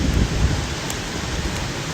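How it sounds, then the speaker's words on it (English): Heavy rain pours down in a dense, continuous hiss with scattered drops spattering nearby, a low rumble underneath, and no one speaking. "The rain got harder again."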